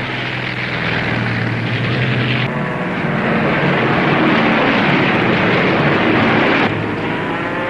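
A propeller airplane drones loudly overhead, a continuous heavy engine roar that holds steady across several seconds with slight shifts in pitch as it passes.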